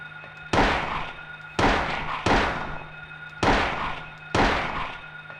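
Shotgun blasts aimed at a monster in Silent Hill, five loud booming shots spaced roughly a second apart, each with a sharp attack and a decaying tail over a steady low hum.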